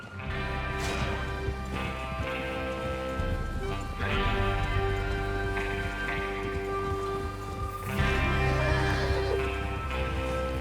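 Horses in Red Dead Redemption 2 whinny and snort amid steady clip-clopping hooves and a soft rain-like patter, with a few loud neighs rising over the background.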